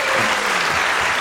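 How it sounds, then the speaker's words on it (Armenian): An audience at a New Year celebration claps loudly and densely, a close, continuous burst of applause with no gaps. "եկեք բարձր ծափարենք մի հատ"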